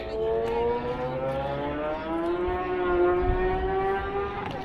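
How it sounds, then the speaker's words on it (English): Race cars lapping a racetrack very close by, their engines producing a steady, continuous droning whine with shifting pitch that rises and falls as the cars pass, fairly loud and with no talking. "Sorry if you hear that noise. They are doing races at the racetrack, and it is extremely close."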